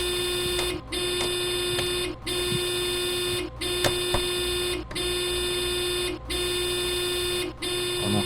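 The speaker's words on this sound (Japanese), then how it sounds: "この警報を止めるのはないんですかね。" A warning buzzer in a train cab in Train Sim World 3 sounds loud and continuous, with brief regular dips about every 1.3 seconds across the whole stretch.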